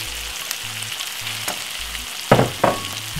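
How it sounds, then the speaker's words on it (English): Saltfish sizzles in a pan with cooked vegetables, a steady close frying hiss broken by two sharp bursts of louder crackle as the fish is stirred in. "all I need to do is add my saltfish"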